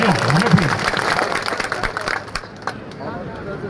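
A crowd claps at a village panchayat event with a central minister present, a burst of hand claps under a loud voice and babble that thins out over a few seconds and fades.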